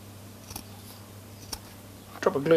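Scissors cutting foam while a homemade windgag is built for a portable recorder. A few short, faint snips sound up close in a quiet room, followed by a brief louder rustle at the end.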